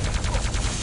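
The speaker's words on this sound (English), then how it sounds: "Need the plasma gun here to spam it." Plasma gun firing in a Quake deathmatch: a quick string of rapid, evenly spaced energy shots, loud and close, lasting under a second.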